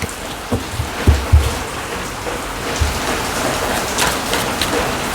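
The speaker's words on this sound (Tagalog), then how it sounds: "Yan siya na sa ulan." Steady rain pours down close by with a dense hiss of drops hitting surfaces, punctuated by several heavier low thumps and knocks.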